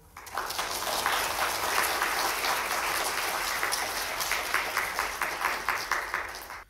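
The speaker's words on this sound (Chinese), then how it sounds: "大家掌声欢迎" An audience at a university popular-science lecture on black holes breaks into sustained applause welcoming the speaker, a dense steady clapping that holds for several seconds and thins into scattered claps toward the end.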